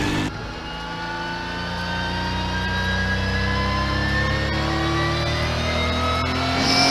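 A Honda NSX Type S engine accelerating hard, one long rising whine as the revs climb steadily over several seconds, loud and close, with no talking.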